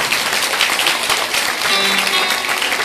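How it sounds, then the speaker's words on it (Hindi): An audience at a Bhagavatam katha in Mohan Nagar, Ghaziabad claps loudly and continuously, a dense, sustained wash of many hands filling the whole stretch. "आप लोगों के लिए जोरदार ताली हो जाओ जितने जोर से हो जा सकते हैं"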